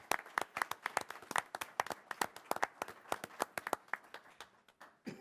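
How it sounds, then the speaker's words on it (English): A small group claps in quick, uneven bursts of sharp hand slaps, steady for several seconds before tapering off. "let's give them a round of applause"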